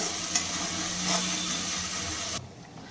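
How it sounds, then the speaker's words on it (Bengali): Spice paste with ginger sautéed in a pan for vegetarian biryani, a steady close sizzle with light stirring scrapes that cuts off abruptly near the end. "এবার আমি মশলাটাকে ভালোভাবে কষিয়ে নেব।"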